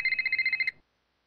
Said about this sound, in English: Whoa, I get a phone call.